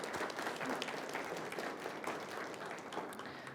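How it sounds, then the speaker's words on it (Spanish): A church congregation applauding someone for their birthday, a dense, steady wash of many hands clapping together, moderately faint and continuous throughout. "Démosle un aplauso a Giovanni que estuvo de cumpleaños de esta semana."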